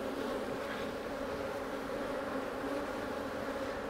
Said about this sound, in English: But that's not gonna affect the bees that are up here in my face.